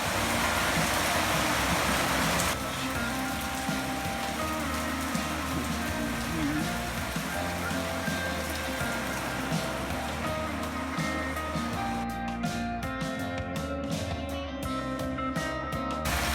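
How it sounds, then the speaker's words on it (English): Steady rain falls on surfaces outdoors on Fiji, a dense continuous patter that holds throughout at an even level, with no voices. "It's raining, but that's okay, they need it."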